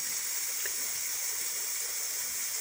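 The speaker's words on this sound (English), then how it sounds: "That's the air coming out." Air hisses steadily from a leaking water system pipe on a farm, a constant close sharp rush with a faint watery gurgle underneath.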